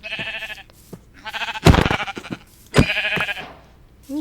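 Sheep bleat in a video game, with several loud, close, wavering baas in quick succession, broken by sharp thuds of an attack.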